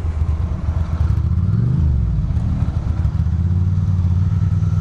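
Ducati Monster motorcycle engine rumbling loudly up close, a deep steady throb with a brief rise in pitch partway through, heard alone without talking.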